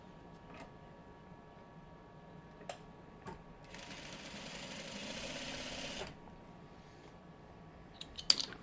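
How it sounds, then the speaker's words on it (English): A sewing machine runs in a short burst of about two seconds, stitching quilt block pieces in a quiet room, framed by scattered light clicks and handling taps. "And I'll sew this piece onto here."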